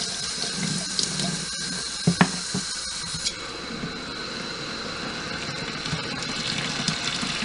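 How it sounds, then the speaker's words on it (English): Tap water runs steadily over a Harbor Freight rotary rock tumbler barrel, a close, continuous splashing gush with a few small knocks and clunks as the barrel is handled under the stream. "Okay, we're just going to run some water over this."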